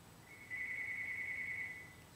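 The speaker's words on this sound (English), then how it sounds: "My telephone is ringing." A single electronic telephone ring, a steady tone lasting over a second, heard alone over faint background hiss during a news broadcast.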